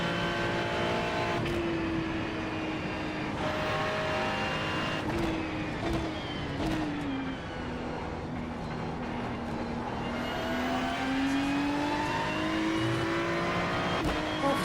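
Porsche Cup race car in a Nürburgring endurance racing game, its engine droning loud and steady throughout with pitch sweeping up and down through gear changes and revs.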